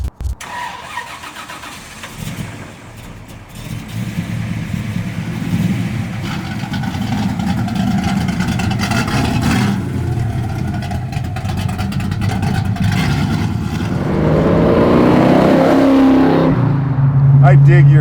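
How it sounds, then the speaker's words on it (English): A 1969 Pontiac GTO pro-touring build cranks and fires up, settling into a loud, rumbling idle before revving harder near the end, recorded close with no speech. "let's close the hood and fire it up"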